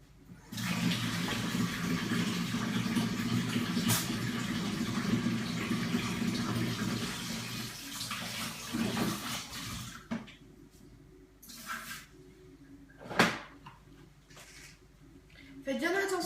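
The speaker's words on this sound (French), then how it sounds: "Je vais la rincer." Running water from a tap rinses a pipette during homemade shea hand cream preparation, a steady broadband rush for about ten seconds, then stopping into quieter drips and clinks with a short sharp splash.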